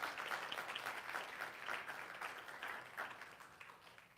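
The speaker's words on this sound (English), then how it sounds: "Let's give them another round of applause." A church audience applauds after a sung performance, a sustained wash of clapping heard faintly from a distance that slowly tapers toward the end.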